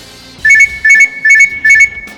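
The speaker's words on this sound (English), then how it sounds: "thank you Gabe for the timer" A timer alarm goes off with four evenly spaced bursts of rapid, high-pitched electronic beeps, close and clear, separated by short silences over a faint background hiss.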